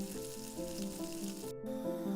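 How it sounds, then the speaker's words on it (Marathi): Steady sizzling of paneer frying in spices and hot oil, a continuous crackle with a brief dropout near the end. "हे पनीर मसाल्यांमध्ये छान परतून घ्यायचं आहे"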